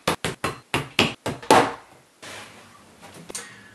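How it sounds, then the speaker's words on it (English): Hammer blows driving nails into a wooden bookcase, seven or eight sharp close strikes in a quick uneven series, followed by quieter handling and shuffling noises. "Now we're going to go ahead and hammer these nails in and get the bookcase sitting upright"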